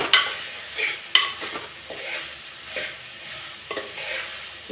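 A spoon stirs bitter gourd kulambu mixture of tomato, sambar and ground onion in a pan, with soft scraping strokes repeating every second or so over a faint, steady simmer; no talking.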